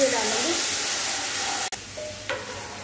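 Kadhi poured into hot tempering with red and green chillies sizzles and hisses loudly while being stirred, with a short break and a few scraping stirs.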